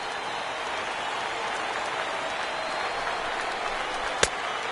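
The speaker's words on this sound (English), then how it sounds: "Now what's left of this crowd this afternoon gets to their feet." Steady, dense crowd noise at a Major League Baseball game between the Rays and Blue Jays, a thinned afternoon crowd rising to its feet, with a constant roar throughout and one sharp crack near the end.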